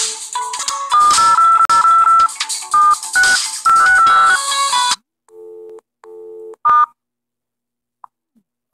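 A phone rings inside a horror mystery video game: bright electronic ringtone bursts play in a quick repeating melody, then give way to a few short sparse chirps and near silence.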